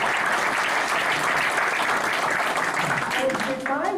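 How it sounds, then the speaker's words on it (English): A crowd at a town hall meeting applauds steadily and loudly, with cheering voices mixed in, tapering slightly at the end. "It's okay to give him another round of applause."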